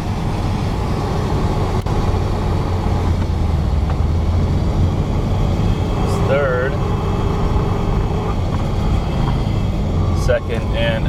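A Porsche engine hums steadily on the road while braking and downshifting, the engine note shifting gradually beneath intermittent talk.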